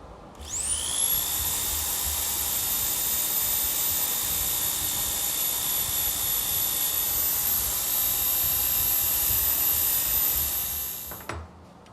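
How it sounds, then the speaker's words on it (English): Belt sander running steadily on an aluminum cut in a woodworking shop, a loud continuous high whine with a rushing hum that starts abruptly, holds for about ten seconds and then stops, with no talking. "I'll just clean it up a little bit with the belt sander."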